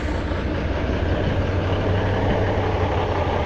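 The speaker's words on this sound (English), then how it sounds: "Okay, white truck's been warming up." A white truck idles steadily while warming up, its engine a low, even rumble held close and unchanging, with no voices.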